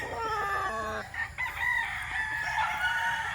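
An eight-month-old Boston Black gamefowl stag crows loudly and close, a drawn-out harmonic call that breaks off and trails into softer throaty clucking.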